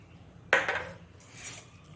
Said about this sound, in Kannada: ಅದಕ್ಕೆ ಸ್ವಲ್ಪ ಅಂದರೆ 1 ಚಮಚದಷ್ಟು ಎಳ್ಳನ್ನು ಹಾಕ್ಕೊಳ್ತಿದ್ದೇನೆ.